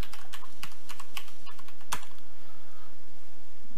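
Quick keystrokes clatter on a computer keyboard as an IP address is typed, close up, in an uneven run of sharp clicks with one louder key press near the end, and no voices.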